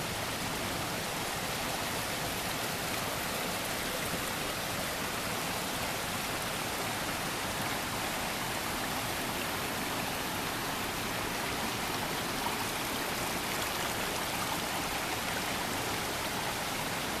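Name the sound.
Conway River flowing by a campsite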